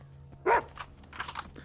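A dog barks once, loud and close, in the video game Into the Radius, followed by faint scattered clicks and movement over a low steady hum.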